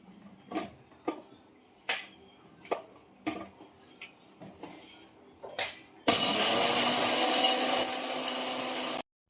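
Roasted pulses are ground into flour for kani, a dry powdered preparation. Several light knocks and clatters come first, then a loud, steady grinding roar starts near the end and keeps going until it cuts off.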